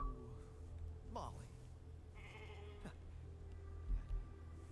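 A pet sheep in a video game bleats faintly a couple of times over a low humming game background, quiet and somewhat distant.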